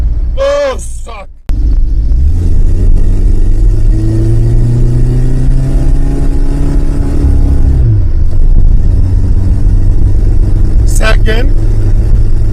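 A K Car's engine sounds close and loud as it accelerates toward 60 miles an hour, a steady mid-pitched drone whose pitch climbs and then drops near a gear change, with short bursts of noise near the start and end.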